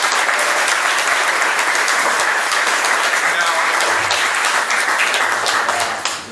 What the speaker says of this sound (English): Everybody give Guy a round of applause.